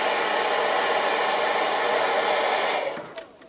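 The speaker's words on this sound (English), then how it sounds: "blow drying the hair" A handheld hair dryer blows steadily and loudly while styling hair, a broad continuous roar that cuts off near the end, leaving a few faint clicks and handling noises.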